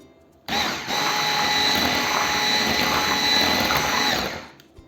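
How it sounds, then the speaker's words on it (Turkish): An electric mixer on low speed switches on and runs at a steady, low whir for several seconds while mixing cake batter before cutting off. "şimdi mikseri düşük devirde çalıştıracağım"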